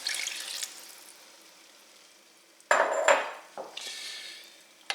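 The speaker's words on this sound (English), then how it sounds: "now I'm going to crank up the heat and add the cornstarch solution" Cornstarch solution poured into a hot pan of sauce for Salisbury steaks, giving a sudden loud sizzle and splash at about the midpoint that tails off, followed by a steady hiss of simmering liquid.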